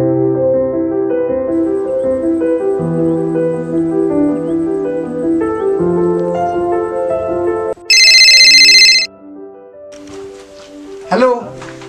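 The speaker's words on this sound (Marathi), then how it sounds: "लावतो फोन. थांब लावतो हा." A loud electronic phone ringtone cuts in for about a second and a half after a stretch of background music in a Marathi drama episode, as a call is placed. A fainter, scattered chirpy sound follows.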